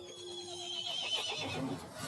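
A horse whinnies in Resident Evil Village, a drawn-out neigh layered over eerie, dense game ambience, sustained and fairly close for about two seconds with no talking.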